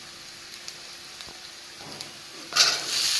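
Onions and cumin seeds frying in hot oil in a wok, a soft crackle that swells into a louder, steady sizzle near the end, with no talking.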